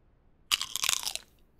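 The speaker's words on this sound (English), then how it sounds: "I need to eat one more piece of meat" A piece of meat eaten in Crestfallen: one short, loud, crunchy bite and chew lasting under a second, close up and alone, with a quiet lead-in.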